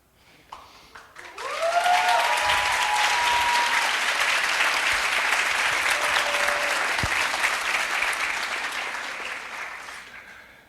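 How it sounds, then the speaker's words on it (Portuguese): Audience applause at a philosophy panel closing session, swelling quickly after a short voice into loud, steady clapping from a full room that holds for several seconds before tapering off. "Obrigado de novo pelas palmas."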